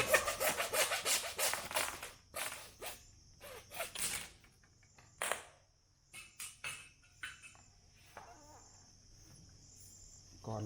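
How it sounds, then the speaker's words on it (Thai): A hand saw cutting through a PVC pipe for a broom handle, with uneven bursts of rasping strokes that grow shorter and sparser, fairly close, alongside a steady high insect-like whine in the background. "นี่เราก็มาตัดท่อ PVC เราจะใช้ท่อ PVC 4หุ่นแล้วก็มาต่อเป็น 6 หุ่น"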